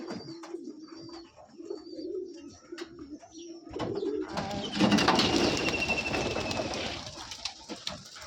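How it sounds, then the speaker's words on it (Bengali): Domestic pigeons on a rooftop coo in repeated low, soft rolling calls close by, followed by a burst of wing flapping and rustling as the birds stir and take off. "এই যে আমার ভাইয়ের কবুতর"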